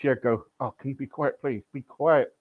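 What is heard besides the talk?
None of the usual background noises is heard.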